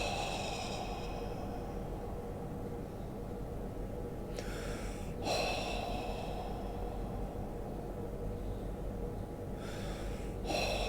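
Deep breaths during a guided meditation, two long breathy exhales a few seconds apart, close and soft over a steady background hum.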